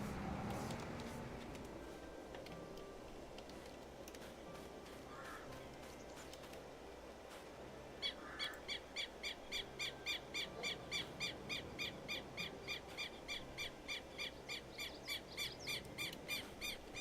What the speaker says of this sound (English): I like the Caribbean bird sounds and stuff.